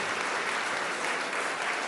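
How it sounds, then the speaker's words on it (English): Steady, dense applause from a large audience at a horse-racing awards ceremony fills the moment, even and sustained with no voices standing out. "give him a round of applause"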